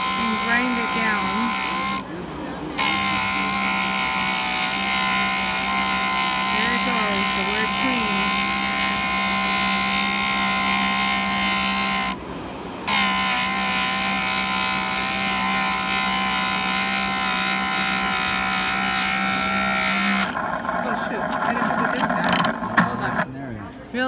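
A rotary grinder fitted with a 120 grit ceramic bit whines steadily while grinding engraving off jewelry, pausing briefly twice. A person talks over the tool.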